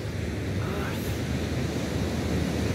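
Surf rolls continuously onto the beach at Jeffrey's Bay, a loud, steady wash of breaking waves mixed with heavy wind buffeting against the microphone.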